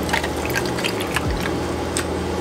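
Lavender oat milk poured over matcha in a cup, a steady liquid pour with soft splashing and trickling, close and continuous throughout.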